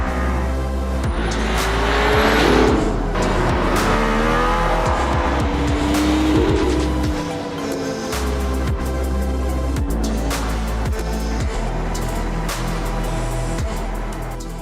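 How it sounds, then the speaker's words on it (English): A Mercedes-AMG ONE hypercar engine roars and revs hard as it accelerates on a track in Barcelona, with rising and falling pitch sweeps from gear changes and faint tire noise, loud and sustained. "This car, the AMG ONE, is in a league of its own, especially in Marco's capable hands"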